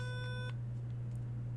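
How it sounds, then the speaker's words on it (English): A LEGO SPIKE Prime robot gives a single short electronic beep on scanning a color, clear and close over a steady low hum, followed by quiet. "when I scan blue, it makes a beep"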